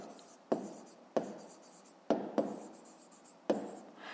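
A pen scratches across paper while writing in a fifth-grade math lesson, with five crisp strokes separated by brief pauses, close and quiet, and no talking.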